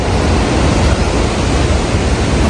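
Rushing water of the Langtang river near Lama Hotel above Rimche, a steady broadband roar that stays loud and unbroken throughout with no voices.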